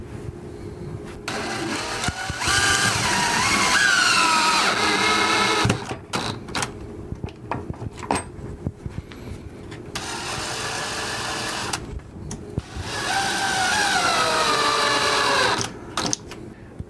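A power driver sinks wood screws into a wall stud to mount the bracket for a Filtrol 160 washing machine lint filter. Two long, rising, whining bursts of the motor are separated by a pause with small handling knocks.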